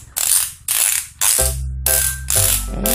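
Fidget toy pocket snack twisted by hand, giving sharp bursts of ratcheting clicks in quick repeated turns, close and loud, with a brief mechanical rattle and hum between some twists.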